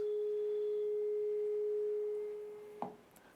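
A steady 420 hertz pure tone holds at constant loudness for nearly three seconds alone, then cuts off with a small click near the end.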